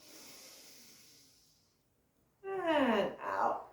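A deep breath drawn in and released during a Sa Ta Na Ma meditation, heard as a soft airy hiss that fades, a pause, then a louder, fuller breath close to the mic.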